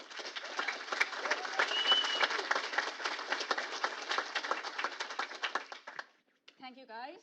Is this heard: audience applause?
yes